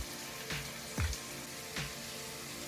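Onions, green chillies, curry leaves and ginger garlic paste sauté in a pan for chicken chukka, giving a soft, steady sizzle with a few brief stirring knocks.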